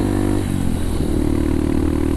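Honda CRF supermoto motorcycle engine idling and revving close up, a steady loud mid-pitched engine drone with a slight rise in pitch and rough, clattery texture throughout, no talking.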